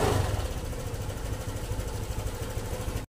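Honda Click 125 scooter engine running after an air-fuel adjustment, a steady close idle drone with a low pulsing rumble that cuts off abruptly.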